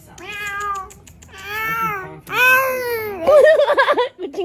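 A human voice mimics a cat in heat, drawing out several loud, wailing meows with rising and falling pitch, the last one shaky and trembling, in a casual indoor setting.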